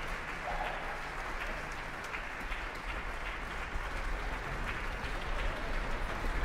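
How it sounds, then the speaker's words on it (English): Sustained applause from a concert audience in Symphony Hall after a Boston University Symphony Orchestra and chorus performance of a Requiem, a dense steady wash of clapping that holds at an even level and swells slightly near the end. "As the applause continues"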